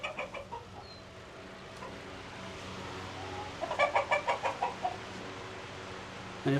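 Chickens clucking in a farm chicken coop, a rapid run of loud rhythmic clucks rising midway over a steady background of softer hen chatter.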